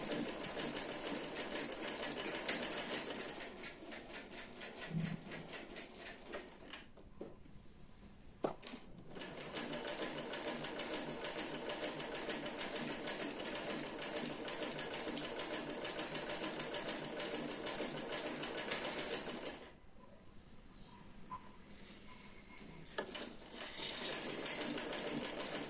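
A sewing machine runs in long, steady bursts while stitching the side slits and hem of a shirt, its rapid needle chatter pausing briefly a few times before starting up again.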